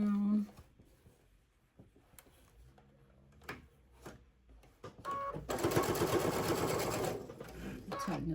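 A sewing machine stitches cotton fabric onto a holiday stocking, starting with a few short taps and then a steady, close whirring run in the second half.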